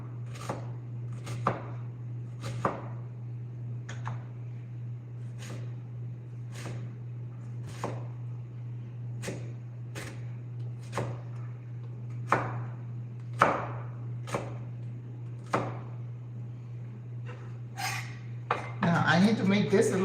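Onions and garlic chopped on a cutting board while cooking a Caribbean dish, a steady series of single knife knocks about one per second over a low hum, ending in a quick flurry of faster cuts.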